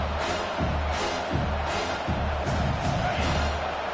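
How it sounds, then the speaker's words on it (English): Home crowd at a college football game roars in a sustained, continuous wash of cheering as the defense tries to get off the field on third down, with no clear talk over it. "Here comes this home crowd as the defense tries to get off the field on 3rd down."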